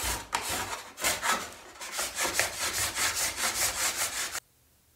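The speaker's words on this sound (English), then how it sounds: "So this is a cabinet scraper." A cabinet scraper drawn over thin 5mm plywood veneer in a steady series of about fifteen quick, rasping strokes, close and fairly loud with no talking, ending abruptly into near silence.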